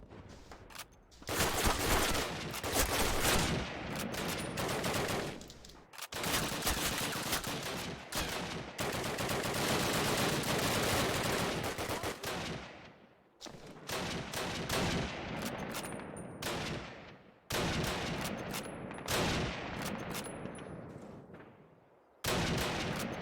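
Machine gun fire rattles in the Call of Duty video game, a dense, loud barrage of sustained bursts broken by several short pauses, continuing nearly throughout with little else audible.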